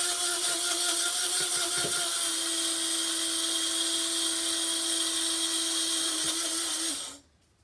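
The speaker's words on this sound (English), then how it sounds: "Tighten it and then grind it." An electric grinder reduces dried coconut to flour with a steady, high-pitched motor whine that holds loud and even for several seconds before shutting off and spinning down.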